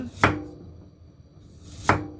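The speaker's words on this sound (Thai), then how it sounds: "จากนั้นเราก็จะมาหั่นขิง" Ginger being chopped with a knife on a board for a chicken wing dish: two sharp, close knife strikes about one and a half seconds apart, with no talking.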